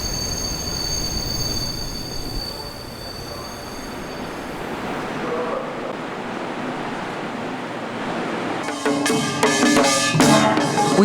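An electric commuter train on a line linked to the Seoul capital region rolls past a hot-spring town in Korea. A loud steady rumble builds into rattling wheels and metallic squeals near the end, with no talking.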